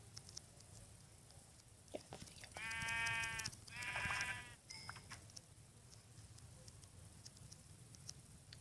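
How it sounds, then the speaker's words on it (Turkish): Sheep in the video game Minecraft give two short, clear bleats in quick succession. They sound over a quiet background with faint ambient noise and scattered clicks. "Koyun buldum bir tane."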